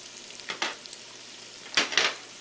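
Chopped peppers, onions and shallots sauté in a pan, a steady soft sizzle broken by a few brief scraping stirs, close and without talk.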